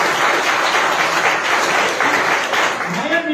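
A church congregation claps steadily during a Christian sermon, a dense patter of applause that holds for several seconds.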